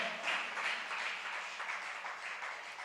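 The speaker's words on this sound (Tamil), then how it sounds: "கைத்தட்டி கர்த்தருக்கு நன்றி சொல்லுங்க பார்க்கலாம்" A church congregation claps hands in thanks to the Lord during a fasting prayer service, a soft, fairly distant patter of many hands that stays even and gradually thins, with no voices over it.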